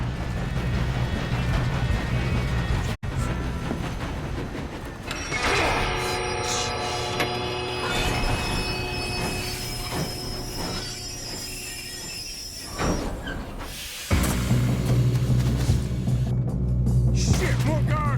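Train rolling along its tracks in a snowy Red Dead Redemption game level, with a steady loud rumble, squealing wheels and a sustained horn-like tone that cuts out briefly near the start and again toward the end.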